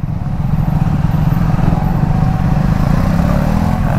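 Triumph Speed 400, a 400cc motorcycle, heard while riding with a steady close engine drone and wind rush throughout, no clear revving changes.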